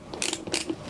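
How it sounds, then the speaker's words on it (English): Quick ratcheting clicks from the A-top tightening wheel being turned on an Iqon skate, two short bursts of crisp mechanical ticking, close and fairly quiet with no talk. "that A-top system, which is the wheel that you turn to tighten up"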